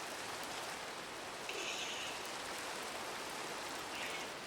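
Steady rain in the Minecraft video game, a soft continuous hiss of falling drops with no talking, even in level throughout.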